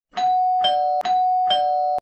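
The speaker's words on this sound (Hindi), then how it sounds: "ये सुनकर बूढ़ा आदमी तुरंत हाँ कर देता है और घंटी बजा देता है" A two-tone doorbell chime rings twice in a row, each ding-dong clear and ringing out, close and loud with nothing else around it.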